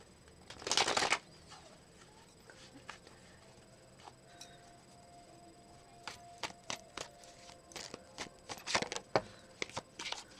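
A deck of tarot cards shuffled close by: one loud riffle burst early, then quieter scattered card taps and slaps, building into a cluster of crisp shuffling snaps toward the end.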